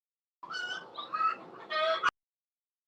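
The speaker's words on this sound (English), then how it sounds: "Please excuse the chickens in the background." Chickens cluck close by in a short series of several nasal, pitched calls, loud and alone, cutting off abruptly at the end.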